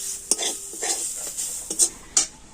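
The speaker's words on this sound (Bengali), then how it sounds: "সবজিটা আমি ভালোভাবে নাড়াচাড়া করে নিলাম" Vegetables being stirred with garam masala in a pan, a quick run of spoon scrapes and metal clinks over a low sizzle.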